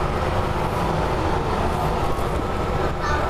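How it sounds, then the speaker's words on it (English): A passing train gives a continuous broadband rumble and rattle of rail cars, loud and steady throughout with no speech over it. "Is it the train?"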